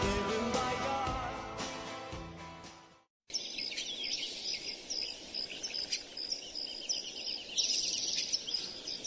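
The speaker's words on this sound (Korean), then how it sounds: "새소리로 끝납니다." Faint birdsong with steady chirps and tweets closes out a song, following the music's end and a short silence.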